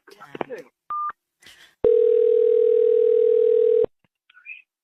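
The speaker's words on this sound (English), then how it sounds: "We keep getting disconnected." Right after a phone call cuts out, a steady telephone dial tone plays loud and alone for about two seconds, following brief beeps, a short higher tone and some faint background talk, and it ends abruptly.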